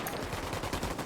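Dense, continuous burst of video game gunfire from a Ghost Recon firefight, rapid overlapping shots filling the whole moment, loud and close with no pause.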